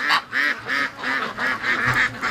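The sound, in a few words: ducks calling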